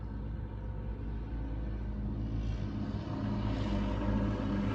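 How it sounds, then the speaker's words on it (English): A helicopter flies low overhead, a continuous heavy rumble with a broad engine roar that swells slightly toward the end, steady and close with no voices. "Is that a helicopter? I think it is."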